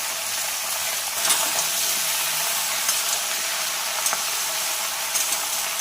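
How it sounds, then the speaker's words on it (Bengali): Steady frying sizzle of vegetables with salt and turmeric in a pan, a continuous bright hiss with a few faint clicks and stirs, no voices. "এবার এর মধ্যে নুন হলুদ দিয়ে এগুলোকে লাল লাল করে ভেজে নেব"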